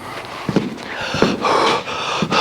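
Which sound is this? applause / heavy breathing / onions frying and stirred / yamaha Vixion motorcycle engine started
heavy breathing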